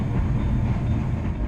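A Matterhorn Gotthard Railway rack train running through a Swiss valley near Zermatt, a loud continuous rumble and rattle of the carriages with a steady rolling roar.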